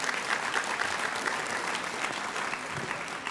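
An audience at a scholarship jazz brunch gives steady, dense applause, a continuous even roar of many hands clapping at close range throughout.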